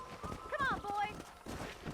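Horse hooves clip-clop at an easy walking pace in the video game Red Dead Redemption, close by, with a brief whinny-like tone and faint background chatter.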